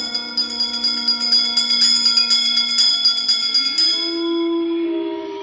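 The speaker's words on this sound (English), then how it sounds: "give us a hint by ringing a bell." A bell rings repeatedly in the Haunted Mansion ride's spooky audio, struck in a quick, steady series of bright metallic tones that blend into a sustained chime before fading into a lingering ringing note.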